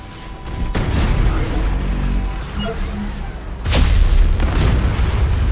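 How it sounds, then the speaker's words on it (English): Explosions and gunfire in a battle in the video game Anno 2205, heard as a loud, continuous rumbling barrage of booms and blasts, with a fresh heavier surge of detonations partway through. "We're under fire."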